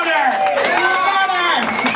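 A concert crowd at The Indie Attic cheers and whoops loudly, with bright voices rising over a wash of applause throughout.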